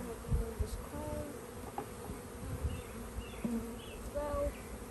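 Honeybees drone and buzz steadily around an open nuc beehive during comb handling, with individual bees zipping close past in louder passes.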